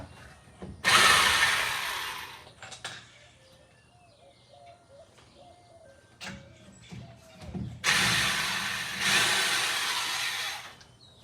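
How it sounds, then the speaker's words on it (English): A 1/2-inch electric impact wrench loosens the wheel lug nuts on a 1966 Ford Mustang in two loud, close bursts, one early and one late, with quieter clanks and faint bird calls between. "Reggie, gave me this 1/2-inch electric impact."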